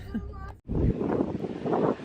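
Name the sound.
wind blowing outdoors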